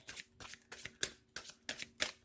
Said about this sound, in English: And then I like to shuffle personally because my hands are small.